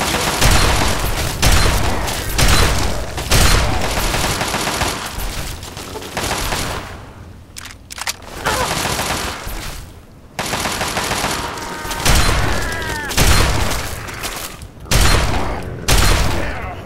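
Close, booming shots from a combat shotgun in Fallout 3 come in rapid rhythmic bursts over a steady din of gunfire, with short lulls between volleys and no clear talking.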